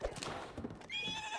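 A horse in The Legend of Zelda: Breath of the Wild gives a short whinny after a brief burst of hoof and movement noise, all within about a second and a half.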